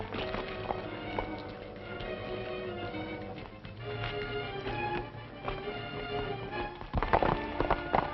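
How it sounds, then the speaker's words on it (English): Hooves drum in a rapid, uneven rhythm at moderate volume, with scattered clattering that grows busier near the end. "Come on, get on your horse."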